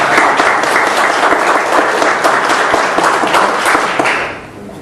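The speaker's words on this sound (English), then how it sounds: "So let's give them a big applause as well." Conference audience at an agile software event clapping steadily, many hands close together in a loud sustained burst that tapers off in the final half second.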